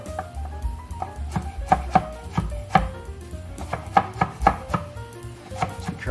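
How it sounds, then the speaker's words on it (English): A knife chops food on a cutting board while dishes are prepared, giving irregular sharp close taps over a steady low kitchen hum, with no talking. "Just be careful when you're chopping these to keep your fingers folded over"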